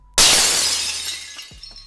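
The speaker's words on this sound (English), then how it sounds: "they were punctuated with the sound of breaking glass" Glass breaks in a sudden loud shatter that bursts in at once, then settles into a fading tinkle of shards. A couple of small thuds follow near the end.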